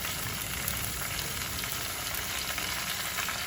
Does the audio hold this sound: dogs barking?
no